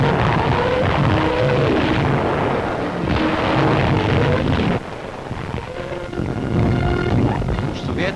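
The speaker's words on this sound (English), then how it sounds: "Through the TSF, the order is given to start the rocket guns." Rocket guns fire in a 1944 wartime newsreel, a dense, loud, continuous roar of blasts and rumbling booms with old film soundtrack hiss.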